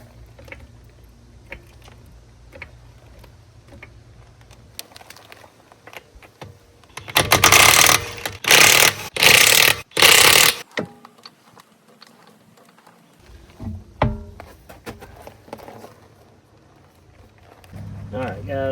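Old wheels come off a C8 Corvette as an impact wrench rattles loosely in a few sharp bursts around the middle, with scattered clanks and tool handling before and after, and a voice speaks at times.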